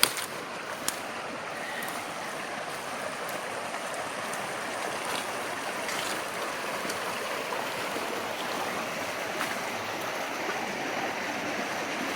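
A river runs over a slate bed outdoors, a steady, even rush of flowing water that fills the whole stretch with no voices.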